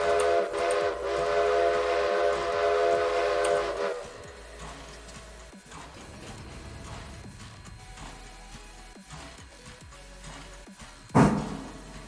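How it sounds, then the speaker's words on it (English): A passenger train departs in the railway simulation game Railroader: a loud sustained horn blast for about four seconds, then quieter rolling rail clatter and ticking, with a short burst near the end. "the passenger train's gonna depart, and it's gonna be waiting for us to finish our route"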